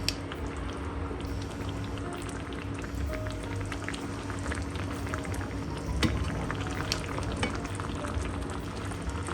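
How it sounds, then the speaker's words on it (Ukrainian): Meat being stewed in a tomato pizzaiola sauce in a pan, with a steady bubbling, popping simmer and occasional stirring clinks throughout, close and without speech. "Далі повертаємо сюди в соус м'ясо будемо тушкувати."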